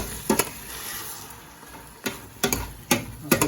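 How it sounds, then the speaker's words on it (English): A spoon stirs beef bourguignon in a pot, giving a few sharp scraping clinks in scattered bursts over a steady low sizzle, close and fairly loud. "Just give that a stir."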